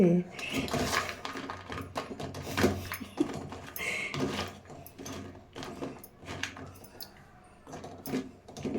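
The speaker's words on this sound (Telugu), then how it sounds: "ఇప్పుడైతే మనం ఒక చాకు సహాయంతో ఇట్లా కట్ చేసుకుందామండి" A knife scrapes and clacks against hard-set peanut brittle (palli patti) on a plate or board. The sharp, uneven knocks and scrapes come irregularly, and a person talks over them.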